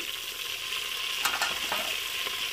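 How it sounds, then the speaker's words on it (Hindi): Tempering for village-style sarson ka saag sizzles steadily in hot oil, a dense close hiss with a few brief sharper crackles. "अब हम इसे तड़का लगाएंगे।"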